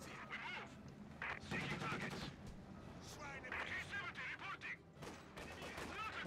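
Mortar rounds and gunfire in a Company of Heroes 2 4v4 battle on La Gleize: bursts of small-arms fire and impacts come and go, with players talking excitedly over the combat.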